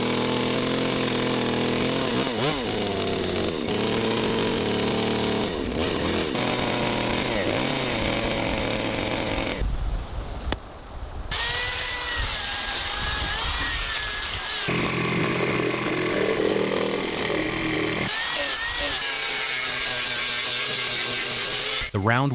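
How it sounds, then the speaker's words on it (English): A power grinder smooths the top of a round wooden railing post, running loud and continuous with shifting pitch, a brief pause near the middle, then resuming; speech may sit faintly underneath. "The wooden railing post is being smoothed with a grinder so the top becomes even, without any rough edges or splinters when touched."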